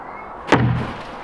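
A single sharp, loud impact as an axe strikes a sled, a sudden crack that decays quickly into a short ringing tail, with no talking.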